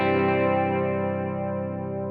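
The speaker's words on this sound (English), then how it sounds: "this TC Electronic Flashback. And honestly, I love how it sounds" An electric guitar chord rings through a TC Electronic Flashback delay pedal, sustained and shimmering with a wobbling chorus-like effect and repeating echoes, slowly fading over about two seconds with no talking.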